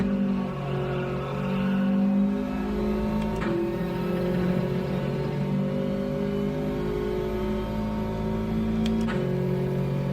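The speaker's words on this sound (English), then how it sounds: "I did this upshift to fourth." Subaru WRX engine in a racing game droning loud and steady at high revs, with a clear pitch drop as it upshifts to fourth, followed by further gear changes; no talk.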